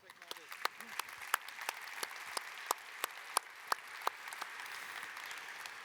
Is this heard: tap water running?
no